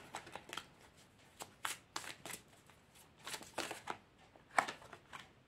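Tarot cards are shuffled and drawn by hand during a reading, giving a string of close, soft riffles and flicks with a few sharper snaps, fairly quiet with gaps between.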